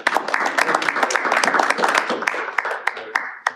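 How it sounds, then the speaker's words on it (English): A small group at a Toastmasters-style club meeting claps in scattered, uneven bursts, loud and close, thinning out toward the end. "Give a huge round of applause"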